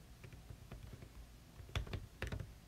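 Quiet, close key clicks from a computer keyboard in irregular bursts, with a few heavier taps near the end, and no talking.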